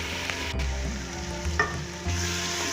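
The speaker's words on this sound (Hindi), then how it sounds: "ये मेथी को मैंने 1 से 2 मिनट इसमें भूना है।" Fenugreek leaves sizzle in hot oil in a pan while a spoon stirs them, giving a steady close frying hiss broken by a few scraping strokes.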